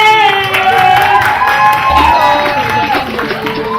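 An audience claps and cheers for a singer as she is introduced, with whoops and shouting voices rising over the clapping and a loud, lively crowd throughout.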